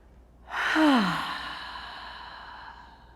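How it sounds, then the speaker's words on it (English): A single long breath exhaled during yoga practice, rising quickly, then fading slowly over a few seconds in a quiet room with no talking. "I want you to start by letting go of a nice long exhale."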